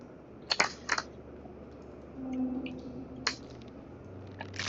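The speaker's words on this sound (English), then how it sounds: "I'm using the keyboard now for some reason." Computer keyboard keys tapped in short clustered bursts during a Batman Telltale video game session, fairly faint over a steady low background hum with no talking.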